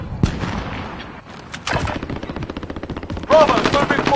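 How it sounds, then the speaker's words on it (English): Rapid bursts of machine-gun fire in a military shooter video game, loud and close, with a short pause and a louder final burst, plus faint radio-style voices in the mix. "Receiving hostile fire."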